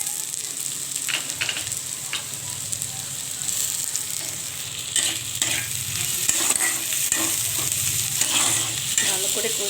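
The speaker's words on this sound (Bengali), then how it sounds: "ভালো করে কষিয়ে নিতে হবে পেঁয়াজটা আর কাঁচা লঙ্কা আর রসুন।" Onion, green chilli and garlic sauté in a pan for a fish roe bhujia, a loud continuous sizzle broken by regular scraping strokes of a spatula, growing fuller toward the end.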